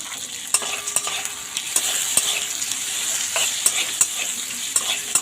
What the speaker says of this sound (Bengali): 1 চামচ গোটা জিরে, দিয়ে দেবো 1 মুঠো চীনাবাদাম খোলা ছাড়ানো